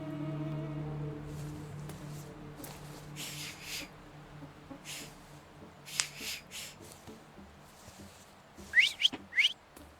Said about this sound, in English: So, have you mastered whistling?